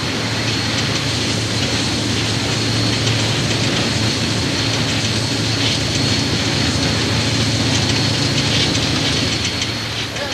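SP 4449 steam locomotive pulling its train through rugged canyon country with a helicopter flying overhead, a steady loud rumbling roar of engine and rotor noise continuing throughout without speech.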